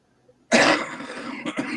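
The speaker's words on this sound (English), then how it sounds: "How you going to start me coughing?" A man coughs loudly once after a quiet moment, a harsh throaty burst followed by a rougher second cough, close to the mic.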